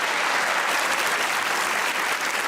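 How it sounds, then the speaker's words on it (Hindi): Studio audience at a comedy talk show breaking into loud, dense applause, a continuous wall of clapping that stays level and close throughout without any voices. "अगर हैं तो थोड़ी सी ताली और बजाइए"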